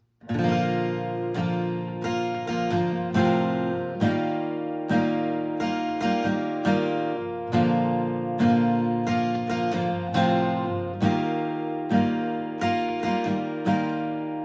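Acoustic guitar strummed in a repeating down-and-up rhythm, full ringing chords played close and steady for several bars, no voices.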